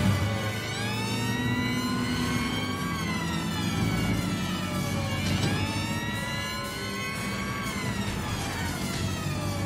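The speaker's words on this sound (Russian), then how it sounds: "О, сирена!" Wailing police car siren in Watch Dogs: Legion, rising and falling continuously over a steady car engine drone throughout, loud and close with no talk.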